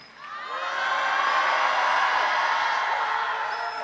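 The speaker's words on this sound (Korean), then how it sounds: "예수님 좋으시면 소리 질러봐" Church congregation at a winter camp worship service shouting and cheering together, a loud swelling roar with whoops that rises quickly, holds, then tapers slightly.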